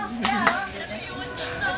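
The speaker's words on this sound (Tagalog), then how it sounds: "Palakpak" Two quick hand claps ring out close by, mixed with a voice and soft background chatter.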